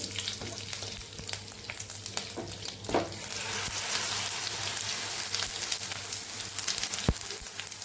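Mustard seeds crackle and pop in hot oil, a dense continuous sizzle with sharp spattering bursts scattered throughout.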